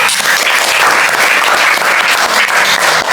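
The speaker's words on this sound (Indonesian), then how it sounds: "tepuk tangan dulu untuk kita semua" A classroom full of people claps steadily, dense and loud applause that holds at a constant level throughout.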